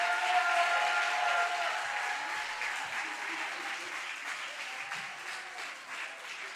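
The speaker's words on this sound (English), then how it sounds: "please give one more round of applause for the whole crew" An audience claps in a dense, sustained round of applause that starts strong and slowly tapers off, with no talking over it.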